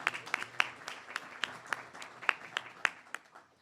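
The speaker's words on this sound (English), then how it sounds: "Please give him a round of applause." Audience at an internal medicine residency graduation ceremony clapping for a graduate, a loose patter of distinct hand claps from a modest crowd, steady at first and thinning toward the end.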